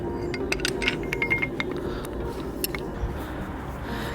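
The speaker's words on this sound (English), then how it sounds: "now I'm just going to kind of crank this down until the gap is closed there at the end." A flaring tool is cranked down on copper pipe during a campervan heater build, giving soft repeated ratcheting clicks and small metallic clinks at close range with no talking.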